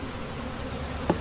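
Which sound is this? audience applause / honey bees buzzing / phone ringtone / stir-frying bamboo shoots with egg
honey bees buzzing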